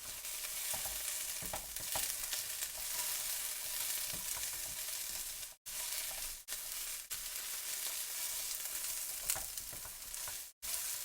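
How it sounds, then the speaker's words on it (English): Close, continuous sizzling of food frying in a hot wok before rice is added, a dense crackling hiss with a few brief breaks and clinks of stirring. "I moved the microphone closer to the wok, so you might be able to hear the sizzling now."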